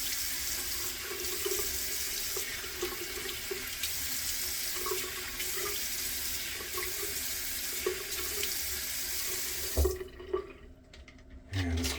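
Tap water runs steadily into a hotel bathroom sink during an early morning shave, a continuous close hiss and splash that stops abruptly near the end, followed by brief splashing of hands in water.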